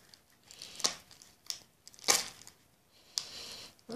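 Scissors snip through the plastic wrapping of a Yu-Gi-Oh Hidden Arsenal 5 booster pack, with several short, crisp crinkling cuts spaced irregularly, close and fairly quiet, and no talking.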